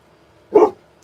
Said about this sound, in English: He is barking.